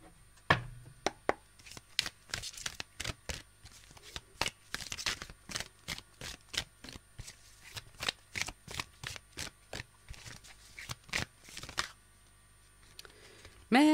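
Primitive tarot oracle cards are shuffled by hand in a long run of crisp, rapid riffles and flicks, close and fairly loud, with brief pauses between bursts and no talking.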